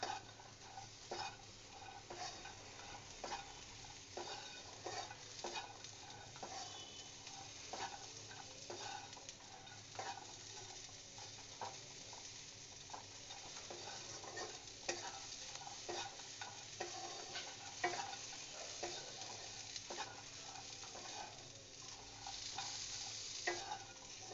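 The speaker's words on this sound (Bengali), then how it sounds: "এবার পেঁয়াজ রসুনটা কড়াইয়ের মধ্যে নেড়ে চেড়ে নেব।" Onion, garlic and green chilli are stirred in a wok, with a spatula scraping in repeated quick strokes over a soft, steady sizzle of frying, heard close but faint and with no talk.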